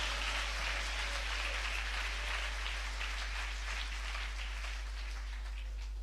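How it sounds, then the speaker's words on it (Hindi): A church congregation claps hands together in sustained applause, a dense, even patter of many hands that carries on steadily and eases slightly toward the end, under a low constant hum. "मैं चाहता हूं आत्मा से भरकर ताली बजा के प्रभु को धन्यवाद दीजिए।"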